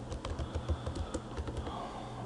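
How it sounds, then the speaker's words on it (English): Rapid, irregular clicking of keys on a computer keyboard as someone types words into a document, close and steady with no voices. "So I'm sitting here typing."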